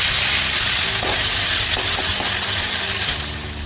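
Potato and tomato frying with cumin seeds in a pan give a steady, loud sizzle throughout, with a few brief stirring scrapes and clinks, fading slightly at the end.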